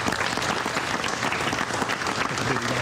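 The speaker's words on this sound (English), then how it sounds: "I'd like to give a round of applause for my student" An audience in a school setting claps for a student, dense, loud applause sustained evenly throughout with no voices on top.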